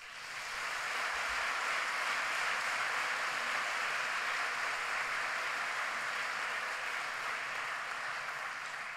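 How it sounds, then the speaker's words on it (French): A large congress audience of around two thousand applauds at the opening of a national convention in Rennes, a sustained, even wash of clapping that swells in quickly and holds steady, heard from a distance in a big hall. "Donc je crois que pour ouvrir ce congrès de la plus belle des manières, on pourrait s'applaudir."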